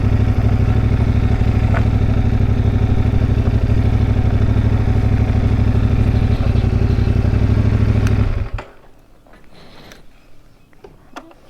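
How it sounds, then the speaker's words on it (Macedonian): Old motorcycle engines run loud and close in a garage at a hostel in the mountains between France and Spain, a steady clattering drone that cuts off abruptly near the end, leaving quiet background. "Старе мотори."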